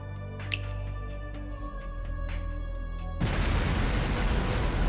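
Valflame Palace exploding in the video game Trails Through Daybreak: a sustained, loud rumbling roar suddenly bursts in after a calm ambient passage with soft tones, and fills the rest of the moment.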